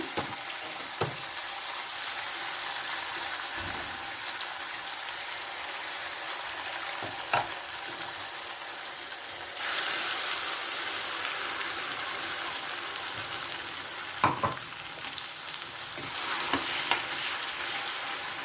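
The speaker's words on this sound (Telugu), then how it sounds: "కరివేపాకు వేగిన తర్వాత పసుపు వేస్తున్నాను పసుపు కొంచెం వేడెక్కినాక ఇంకా మనం మిక్సీ చేసుకున్న దోసకాయ పచ్చడి వేసుకున్నాము" Cucumber chutney with turmeric and curry leaves fries in a pan, a low steady sizzle with occasional stirring clinks and scrapes of a spoon, close by and without talk.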